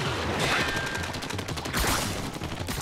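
Ink weapon fired rapidly in Splatoon during a boss fight, a fast run of sharp, evenly spaced shots with squelchy bursts and game effects layered underneath.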